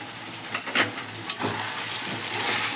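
Chicken masala sizzling in oil in a pan, a steady close frying hiss with a few brief scraping stirs near the start, loud and continuous with no talk.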